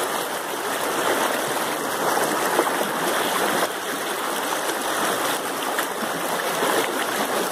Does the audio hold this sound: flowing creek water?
yes